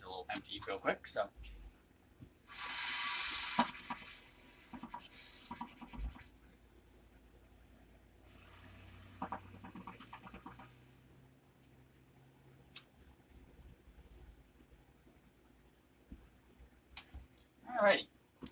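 Spit being emptied from a wind instrument after a scale practice: a loud breathy blast of air and sputter, then a second softer burst, with small clicks and handling noises in a quiet room.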